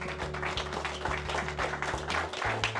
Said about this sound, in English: I want everyone to give a round of applause to you guys